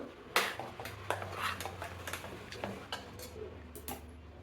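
Spoon scraping and tapping against a plate as mango rice is served, a series of light irregular clinks and scrapes, close but soft, over a low steady hum.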